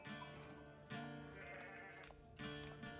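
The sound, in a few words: sheep bleating in the video game Age of Empires 4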